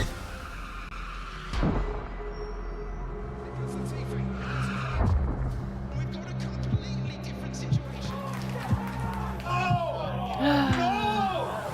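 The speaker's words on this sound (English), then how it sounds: "Latifi crashes." Formula 1 race car crash in a 2021 race: engine roar and tire squeal with sharp impact bursts and skidding, moderately loud and continuous, with talking over parts of it.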